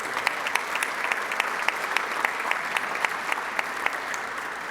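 Applause from an audience at a Rotary club meeting, steady crowd clapping with sharp individual claps standing out, moderately close and sustained throughout without speech.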